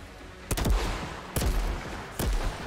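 Sniper fire in the Outriders video game: three sharp, heavy gunshots spaced about a second apart, each with a short echoing tail over quiet background.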